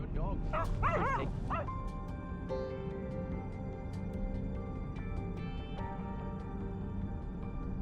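Several wild boar hunting dogs yip and bark excitedly in a short flurry at the start, then fall away as steady music carries on.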